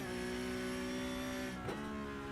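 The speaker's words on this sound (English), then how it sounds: "See if we can hear that gear change" A Porsche Cup race car holds a loud, steady engine note at close range, then briefly drops and recovers in a quick downshift gear change before droning on.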